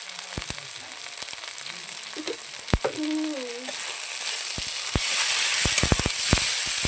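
Spices with turmeric and salt frying in a pan for a potato and egg curry, a continuous close sizzle broken by crackling pops and a few scraping stirs that swell louder toward the end, no talking.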